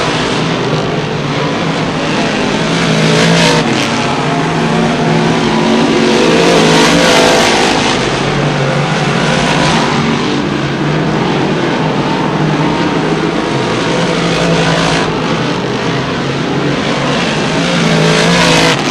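Sportsman modified race cars roar continuously around an oval track during a 30-lap feature, engines loud and sustained with passing surges and revving swells throughout.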